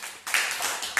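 Small children at an anganwadi centre clap their hands in short, scattered bursts close by, a brief patter of uneven handclaps with no voices over it.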